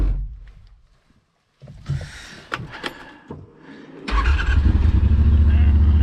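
A Yamaha RMAX 1000 side-by-side with an Alba tune and exhaust tip rumbles on blacktop, with scattered knocks and talking early on before a deep, loud engine roar builds and holds near the end.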